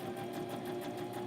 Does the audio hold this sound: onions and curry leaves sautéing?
no